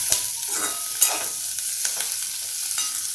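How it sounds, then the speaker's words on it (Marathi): Chopped tomato stirred into vegetables frying in a pan for Himachali thukpa, a soft, steady sizzle with a few spatula scrapes and taps, close and without speech. "आता यामध्ये थोडासा टोमॅटो टाकते हे पण मी आता छानपैकी मिक्स करून घेते"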